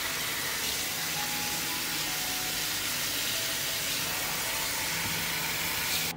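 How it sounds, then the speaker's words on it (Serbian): Running water splashes steadily and loudly as two kilograms of sour cherries are washed, a continuous broadband rush that cuts off abruptly at the end. "Ovdje imam 2 kg višanja i prvo ću ih oprati i očistiti peteljke."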